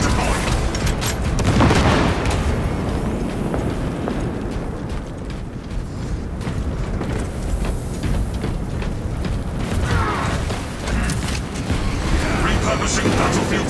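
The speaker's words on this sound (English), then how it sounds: "Fragmentation grenade deployed." A fragmentation grenade goes off in the Warhammer 40k Space Marine 2 video game, with heavy booming blasts and dense, continuous battle noise around it.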